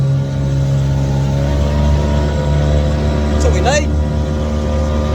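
A small outboard motor runs with a steady, close drone while someone speaks briefly over it.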